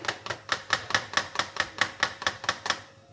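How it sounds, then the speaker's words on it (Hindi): Yogurt being briskly whisked in a bowl for white mutton qorma, about a dozen sharp, evenly spaced strokes in a steady rhythm, close and clear with no talking. "दही में सबसे पहले मैं इसको फेंट लूँगी बहुत ही अच्छे तरीके से"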